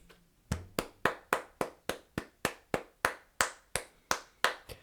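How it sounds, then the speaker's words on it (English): A single pair of hands claps a slow, even round of about fourteen sharp, close claps, quiet overall and with nothing else around them. "to give a round of applause."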